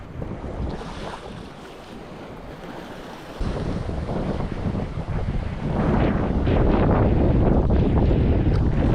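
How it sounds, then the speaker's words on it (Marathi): Strong wind gusts across a Konkan beach, roaring into the microphone over the rush of waves; the blast steps up sharply partway through and grows louder still toward the end. "वारा सुटला आहे जोरात."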